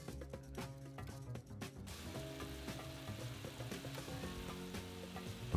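Guanciale sizzles steadily in a pan after a splash of white wine, a continuous close frying crackle with a bright hiss that swells as the wine hits, no talking.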